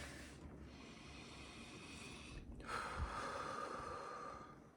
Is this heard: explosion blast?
no